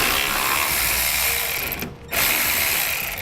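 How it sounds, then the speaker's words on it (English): A ratchet with a 10mm socket loosens a grille bolt on a vehicle. It makes a steady, close, fast clicking that pauses briefly midway and then resumes. "Again, we're just using a 10mm socket."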